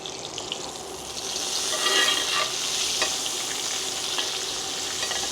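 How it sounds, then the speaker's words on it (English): Steak basting in a hot pan with rosemary, giving a steady close sizzle and frying hiss with spoon-like stirring and splashing of butter, heard alone without talk for about five seconds. "Let me just baste it."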